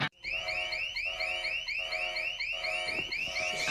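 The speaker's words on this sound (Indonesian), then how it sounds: "ternyata alarm bank itu masih tetap bisa berbunyi." A bank alarm rings during a robbery scene in a film, a loud electronic bell pulsing in rapid repeated bursts after a sharp opening hit, continuing without pause.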